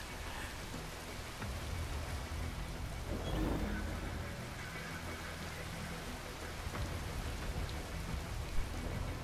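Heavy rain falls in the video game Metal Gear Rising: Revengeance, a dense continuous hiss of downpour with a faint low rumble, steady and enveloping throughout.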